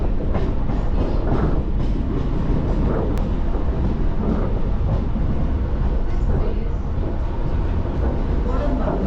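A suburban train between Kodambakkam and Mambalam stations in Chennai rumbles steadily along the rails, close and loud throughout, with faint rhythmic clatter and a brief high tone partway through.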